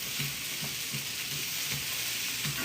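Birria beef sizzling in a hot pan while being stirred, a steady close crackle and hiss with soft rhythmic scraping as the meat is moved around.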